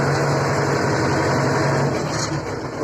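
A Skaut 404C tractor engine runs in second gear, a loud, close, steady rumbling drone with constant vibration throughout and no break.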